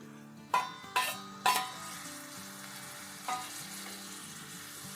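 Tomatoes and green chillies hit onions frying in a pan, giving a low, steady sizzle broken by three sharp clanks of a utensil near the start and one more later. No one speaks.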